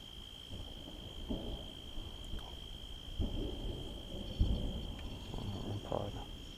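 Low thunder rolls in a massive nighttime thunderstorm over a cemetery, with several muffled rumbles rising and fading over a constant high chirping of crickets.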